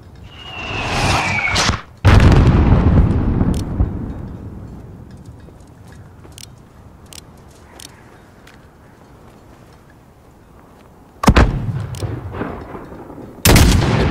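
Mortar and gunfire in the Call of Duty Modern Warfare (2019) video game: a heavy blast near the start, then quieter scattered distant shots, and two more loud sharp impacts near the end, with no talking.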